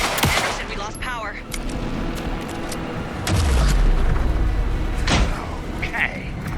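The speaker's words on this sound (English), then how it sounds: "Anderson, pin him down with gunfire for me to get the light on him." Gunfire in Alan Wake 2 during a fight: sharp shots and heavy booms ring out close and loud, mixed with rumbling impacts and layered under people talking.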